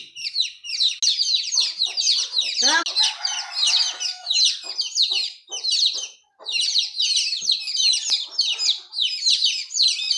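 Busy, continuous high chirping of many chicks with occasional lower clucks from a hen, close by and without pause for most of the time.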